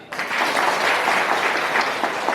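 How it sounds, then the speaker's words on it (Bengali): An audience applauds a guest at a local gathering, steady dense clapping starting abruptly and sustained at even loudness for about two seconds, with no voices over it. "ওনার জন্য আরেকবার হাত তালি"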